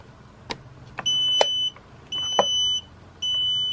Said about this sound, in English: The BMS will start beeping.